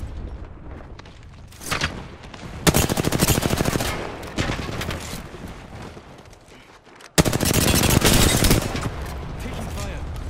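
Rapid video-game gunfire in Apex Legends, dense automatic bursts that rise and fall over about ten seconds with a sharp loud burst near the end, with faint voice chatter mixed in.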